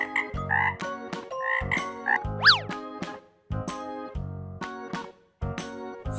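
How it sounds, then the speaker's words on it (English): A frog croaks in repeated loud, rhythmic bursts with short pauses between them, close and clear, joined by a quick rising and falling boing-like sweep. "Frog."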